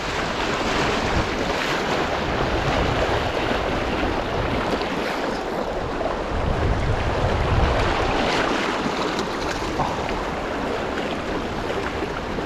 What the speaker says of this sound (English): this is just a big old section of fast water